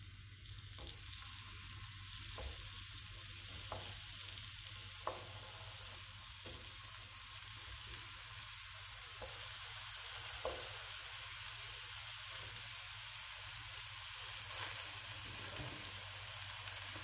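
Eggplant slices sizzle in a hot pan brushed with extra virgin olive oil, a steady, even frying hiss that is close and continuous with no talking.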